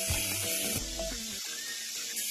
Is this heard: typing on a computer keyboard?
no